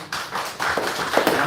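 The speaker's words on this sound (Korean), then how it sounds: "큰 박수로." Brief scattered applause from a congregation at a Sunday morning church service, a loose patter of clapping hands that thickens after a moment, fairly close and without talk.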